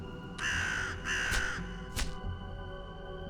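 Several crows caw in Forbidden Solitaire, a card game, three harsh calls in a row over a steady musical backdrop, fairly loud and close.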